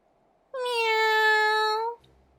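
Cat meowing in the video game Final Fantasy XIV, a single clear, drawn-out meow lasting about a second and a half, close and loud against silence.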